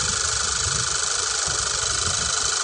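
A car engine runs steadily at idle during a cranking and charging test with a Lancol MICRO-200 battery tester. A continuous, even hum with a fine rapid vibration, close and unbroken, with no voices.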